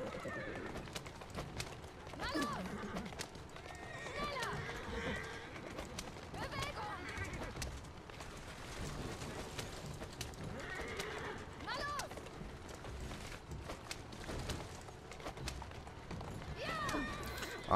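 Horses trot and neigh on the streets of Victorian London in the game Assassin's Creed Syndicate, with clip-clop hooves, occasional whinnies and bird calls under someone talking throughout.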